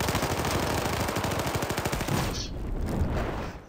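Sustained rapid automatic gunfire in Battlefield 4 on the Dragon's Teeth map, loud and close, a dense rattling burst running about two seconds before tapering into a softer echoing tail.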